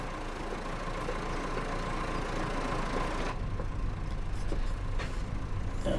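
A tractor engine runs at a steady idle-like drone in the video game Farming Simulator 25 during silage delivery work, continuous and fairly close, with a change in tone partway through.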